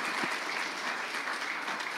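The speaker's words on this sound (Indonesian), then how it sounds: "kita beri tepuk tangan ya" Studio audience at a talk show with the Governor of Central Papua, Meki Fritz Nawipa, gives a dense, even round of clapping that continues without a break for a couple of seconds.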